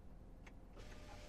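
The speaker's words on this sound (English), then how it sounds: "The driver's window is at least one touch up." The power window in a 2022 Chevrolet Colorado ZR2 pickup moves, heard as a brief, faint electric motor whine inside the quiet cab, with a soft click near its start.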